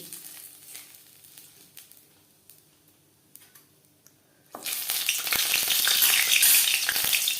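Bay leaves hit hot refined oil and ghee, and a loud, steady crackling sizzle starts abruptly partway through and fills the rest of the clip. Before that there is only quiet kitchen ambience with a few light ticks.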